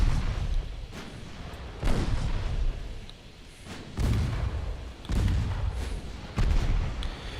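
Battleship naval guns in Ultimate Admiral Dreadnoughts firing repeatedly, five or six heavy booming shots at roughly one-second intervals, each with a rumbling decay.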